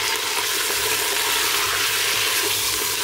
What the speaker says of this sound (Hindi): और अभी इसमें मटन ऐड कर देते हैं।